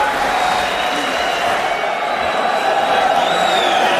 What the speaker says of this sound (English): the crowd is loving every moment